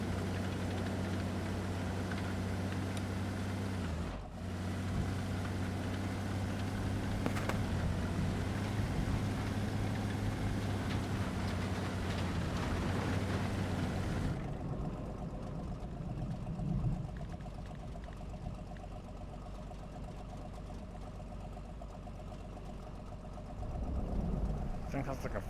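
A tank engine idling in World of Warcraft gives a steady, deep throbbing rumble, heard continuously under people chatting, then thinning into a quieter hum partway through.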